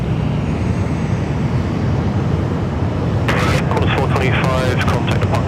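A Boeing 777 with GE90 engines departs from Sydney Airport, producing a loud, continuous broad jet roar that stays steady throughout, with someone talking over it in the second half.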